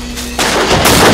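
A single loud gunshot in the horror video game Until Dawn rings out close and sharp, followed by a sustained roaring tail that fills the moment with no talk.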